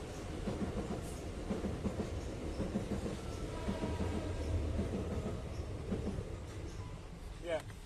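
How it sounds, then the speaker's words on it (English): A Southeastern Class 375 electric train passes nearby with a steady rumbling roar and rhythmic wheel clatter, with a squeal near the end, while people talk over it. "recording a train"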